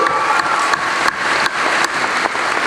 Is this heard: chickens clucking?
no